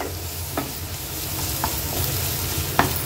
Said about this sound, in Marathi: ती पण कांद्यामध्ये छान परतून घेऊया।